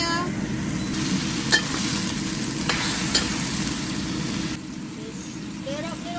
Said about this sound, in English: Just stir it up a little more until all the sauce is almost evaporated